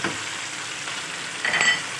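Chicken frying in a karahi with ginger garlic paste added gives a steady, close hiss of sizzling oil, with a brief burst of stirring clatter toward the end.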